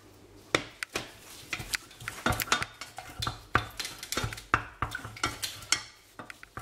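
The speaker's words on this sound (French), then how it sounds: "Je vais incorporer progressivement et mélanger au fur et à mesure." Beaten eggs being worked into pastry batter for a strawberry fraisier, heard as a steady run of sharp utensil knocks and scrapes against a bowl, close and fairly quiet, with no talking.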